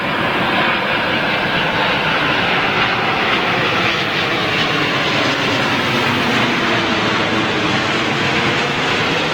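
Jet airliner with Rolls-Royce RB211 engines on approach at LAX, a steady loud broadband engine roar that fills the whole stretch without letting up.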